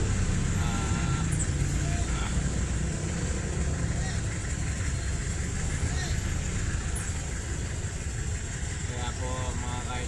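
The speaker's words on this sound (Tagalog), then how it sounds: "Hindi natin mawala po ang traffic dito." Congested road traffic gives a steady, dense rumble of idling engines and passing vehicles, constant for the whole stretch, with someone talking over it.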